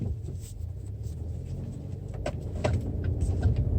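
A 2020 Chevy Equinox Redline edition with the 2-liter turbo engine, heard from inside the cabin as a steady low engine and road rumble that swells slightly near the end, with a few faint clicks and no talking.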